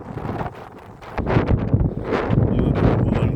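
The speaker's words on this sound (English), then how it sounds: "Catching a bit of wind there, noise sound there" Gusting wind buffets the microphone on a windy suburban lane lined with trees, a low rumbling roar that swells louder partway through and keeps blustering steadily to the end.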